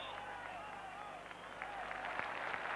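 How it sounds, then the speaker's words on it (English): Stadium crowd at a 1983–84 UEFA Cup match between Tottenham and Bayern Munich giving warm applause for a substituted player, a broad, distant wash of clapping and crowd noise that swells slightly toward the end. "Warm applause around the ground for Ali Dick."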